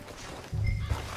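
A horse in the Red Dead Redemption II video game gives a short, low snort or whinny close by, with a faint thump of hooves, lasting about a second.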